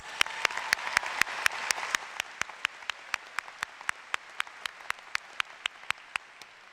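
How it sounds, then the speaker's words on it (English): Applause at a university commencement ceremony for arts, letters and education, a broad wash of clapping that fades away under a regular series of sharp, evenly spaced clicks. "Let's give them all a round of applause."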